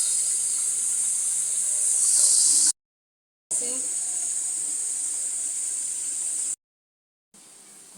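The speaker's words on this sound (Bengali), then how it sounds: "আর এখানে ছোট মাছ ভাজি করতেছি।" Small fish frying in hot oil in a home kitchen give off a steady, bright, close sizzle that cuts out abruptly twice, with no talking.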